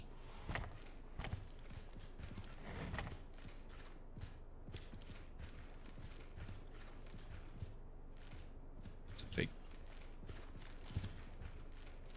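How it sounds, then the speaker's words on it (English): Footsteps in the Ready or Not tactical shooter game: quiet, irregular steps thud and scuff through a hallway over a low ambient hum, with a sharper click near the end. "I hear footsteps."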